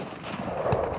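A single loud rifle shot booms across an open African safari landscape during a giraffe hunt, its blast rolling out into a brief echoing tail.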